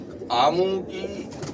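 Kora pigeons from a large rooftop loft of flying birds coo in soft, warbling bursts, with a person talking over and between the calls.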